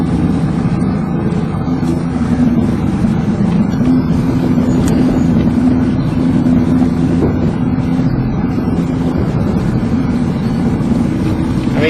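Motorboat engine running on the water, a loud, steady low drone with wind buffeting the microphone, continuous for the whole stretch with no talk over it.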